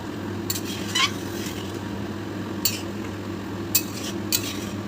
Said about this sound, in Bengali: মাংসটা আমার টপ করে ফুটে উঠেছে